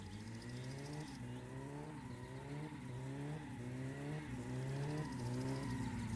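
A car in the video game My Summer Car drives on with its engine revving in a repeating rhythm, pitch climbing and dropping about every second as it surges through gears, loud and steady with no talk.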